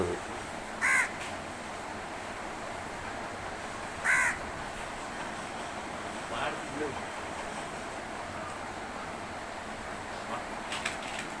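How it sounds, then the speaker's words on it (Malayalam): A crow caws from overhead in a few short, faint, spaced calls, heard against a steady outdoor hiss with no speech. "കാക്ക മേളിയിരുന്ന് കരയുന്നു"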